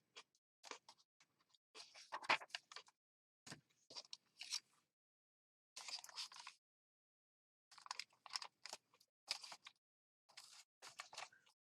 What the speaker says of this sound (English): I'm eating a carrot now.